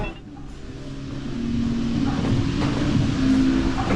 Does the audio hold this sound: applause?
no